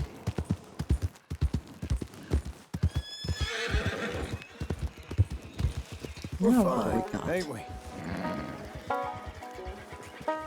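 Rhythmic hoofbeats clop along while a herd of horses neighs and whinnies loudly in the video game Red Dead Redemption 2, mixed with someone talking over game ambient sounds.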